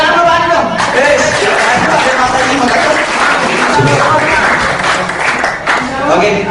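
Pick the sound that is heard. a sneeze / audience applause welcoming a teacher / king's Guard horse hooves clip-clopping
audience applause welcoming a teacher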